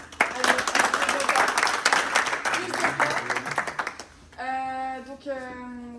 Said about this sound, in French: Merci beaucoup, je vous applaudis.